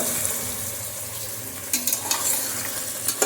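Ivy gourd (tondekai) frying in a pan, giving a steady close sizzle throughout, with a few louder stirring scrapes and spatters toward the end.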